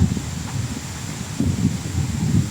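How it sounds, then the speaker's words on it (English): Strong gusting wind roars across an open microphone, rising and falling in loud broadband surges as eucalyptus trees bend over beside a debris-strewn road in Portugal during a yellow wind warning. "perhaps you can see ahead of me these eucalyptus trees really bending over in the wind"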